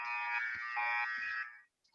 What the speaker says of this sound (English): So first horn sounds,